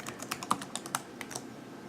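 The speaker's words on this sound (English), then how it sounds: "all you need to do is hold the Shift key and then that same plus or equal sign key." Quick, light clicking of keys on a Chromebook keyboard, an irregular patter of close, soft taps with no voices.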